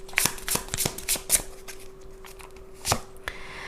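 A tarot deck is shuffled during a Hindi card reading: several crisp, close riffling bursts in quick succession, then a quieter pause broken by a couple of later card snaps as cards are drawn.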